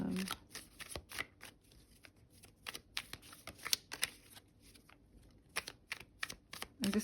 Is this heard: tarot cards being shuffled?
yes